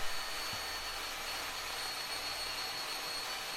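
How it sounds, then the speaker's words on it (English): A bandsaw fitted with a metal cutting blade slowly cuts wood for a slingshot, giving a steady, broad hissing drone with a faint high whine and no change in pitch. "bandsaw has got a metal cutting blade in, so it's not going very quickly"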